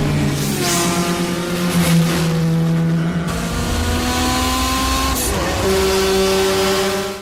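A car engine sound effect from a Fast and Furious film revs and drones steadily, with shifting tones and pitch changes. It plays loud and continuous, with no speech.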